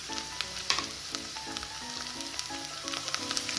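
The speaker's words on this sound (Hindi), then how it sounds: "प्याज का कलर हल्का हल्का चेंज होने लगा है। अब हम इसमें ग्रीन चिली डाल देंगे," Green chili dropped into onions frying and sizzling in a pan for Punjabi-style rajma masala, a steady close hiss broken by a few light clinks and pops, with no voices.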